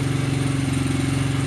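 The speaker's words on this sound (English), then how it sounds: "This exhaust is actually a lot quieter than the other one" A 1993 Honda XR100 motorcycle idles with its stock OEM exhaust, a close, steady low putter with an even rapid pulse and no revving, fairly quiet and unbroken.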